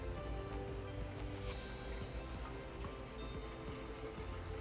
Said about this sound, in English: So, put it in here. Hot water.